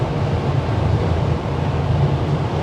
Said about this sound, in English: that wind is just deafening